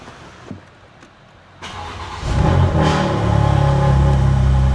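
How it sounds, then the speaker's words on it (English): A BMW G82 M4 with a Fabspeed exhaust cold-starts: a starter whir, then the engine catches with a loud bark and settles into a steady, rumbling high idle close by. "Taking out the G82 M4 and let's do a cold start."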